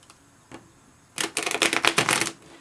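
Tarot cards are shuffled by hand: a single soft tap, then a rapid burst of crisp riffling flutters lasting about a second, close and clear with no voices.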